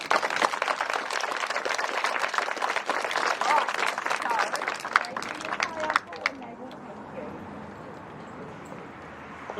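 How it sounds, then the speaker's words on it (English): School children clap together at a blessing ceremony for Te Pākihi o Maru school in Oamaru, a dense, lively burst of close applause for about six seconds that then drops away to quieter background sound. "Give yourselves a paki paki clap."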